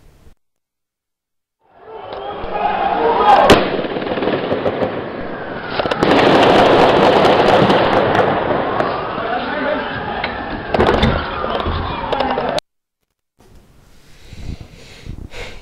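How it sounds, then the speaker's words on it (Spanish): Rapid bursts of automatic gunfire crackle continuously for about ten seconds, harsh and echoing, then stop abruptly before faint scattered noise. "esos disparos no son 3 balazos al aire, esas son armas automáticas, armas de guerra, metralletas"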